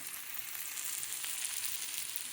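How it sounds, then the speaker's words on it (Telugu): Onions, tomatoes and green chillies fry with salt for sabudana khichdi, a soft, steady hiss of sizzling oil heard close and alone, without talk. "కొద్దిగా ఉప్పు వేసి వేయించినానండి"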